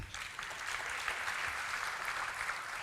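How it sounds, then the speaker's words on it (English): Audience at a college colloquium on the Indian economy applauds steadily, a dense even wash of clapping from a moderately distant crowd with no talk over it. "I think it deserves a round of applause to all of you"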